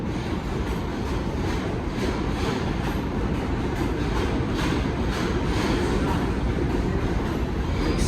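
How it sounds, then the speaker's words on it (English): A New York IRT Lexington line 6 subway train passes close by at a station, a loud steady roar of wheels and rail rumble with faint rhythmic clicks throughout. "Another 6 train."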